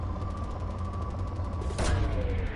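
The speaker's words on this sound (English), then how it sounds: "Launching probe." A probe launching while scanning planets in Mass Effect 2, a sudden whooshing burst over a low droning hum with a faint repeating mechanical pulse, the launch swelling quickly near the end.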